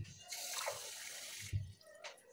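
Water runs from a kitchen tap in short, quiet bursts, a soft hiss that starts, stops and briefly returns, with faint clinks beneath.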